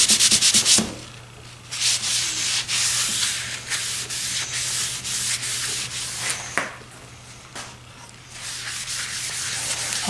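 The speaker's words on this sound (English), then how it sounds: "rub this all over the stock" A wooden stock on a Martini Henry Mk IV rifle is rubbed by hand, giving repeated close, scratchy sanding-like strokes in uneven bursts with brief pauses, over a faint steady hum.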